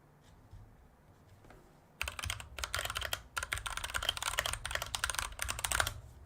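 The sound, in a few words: typing on a mechanical computer keyboard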